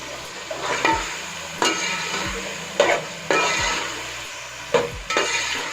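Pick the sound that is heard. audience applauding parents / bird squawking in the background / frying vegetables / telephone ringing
frying vegetables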